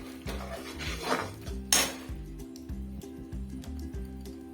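Jaggery syrup for peanut chikki being stirred in a pan over low heat, the spoon scraping and knocking against the metal in a steady repeating rhythm, close and moderately loud with faint background hum.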